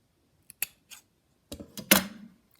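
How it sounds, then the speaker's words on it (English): Scissors snip through white wool yarn during knitting, a few quick close, crisp cuts with small clicks, the loudest near the end, in an otherwise quiet room. "just cut the white wool off"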